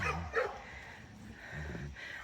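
Household dogs bark and yip indoors, short barks near and moderately loud, with a whimpering tone between them and no clear talk over the barking.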